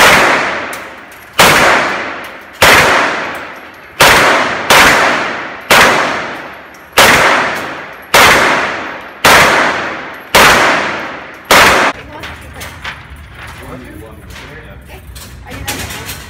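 An AK-47 rifle firing at an outdoor range as loud, sharp, separate shots about a second apart, each ringing out briefly, about ten in a row before quieter background sounds take over.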